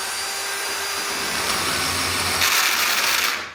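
Worn hole saw driven by a drill in a tube notcher cutting steel tube for a rock-crawler pickup bumper, a steady loud high-pitched grinding whine that grows harsher near the end before stopping, with no talk.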